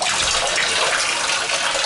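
Hot water sprays hard and fast from a shower head in a bathroom, a loud, unbroken hiss of falling water with no talking.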